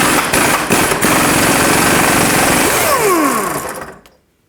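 Impact tool spinning off a bumper mounting nut on a 1998-2011 Ford Ranger with an 18mm socket, a loud, continuous close whirring rattle that winds down and stops near the end.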